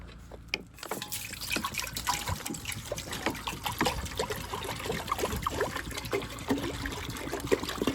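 Water pours and trickles steadily at a campground as it is given to a dog to drink, a close, continuous splashing stream that runs alone for several seconds.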